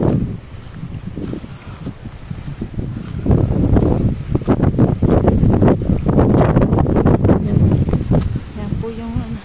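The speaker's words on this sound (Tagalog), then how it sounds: "Mahangin po. Medyo mahangin." Wind gusting outdoors by the water, buffeting the microphone in irregular loud bursts, with voices talking over it.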